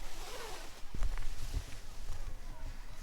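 A zipper is pulled on a hammock cover, a short rasping stroke heard close up under a low rumbling background, with brief handling thumps.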